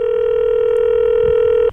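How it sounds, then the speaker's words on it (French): A telephone ringing tone sounds during an outgoing call, one steady, loud, continuous electronic tone that cuts off abruptly at the end, with no voices. "vous entendez la sonnerie quand même?"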